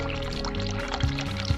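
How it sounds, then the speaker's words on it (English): A tap running cold water in the horror game The Cat Lady, a short burst of splashing, trickling liquid pouring into a basin, close and moderately loud. "Run cold water."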